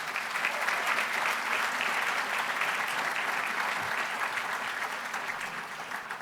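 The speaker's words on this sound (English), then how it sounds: "So please give them a round of applause as well." Sustained, dense applause from a gala audience at an education award event, an even roar of many hands clapping throughout with no voices.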